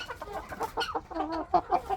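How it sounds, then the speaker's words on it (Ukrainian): An old Brahma rooster clucks in a series of short, throaty calls up close, fairly quiet, with a few sharper notes near the end. "То старий півник брама."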